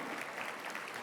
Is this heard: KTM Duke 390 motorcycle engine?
no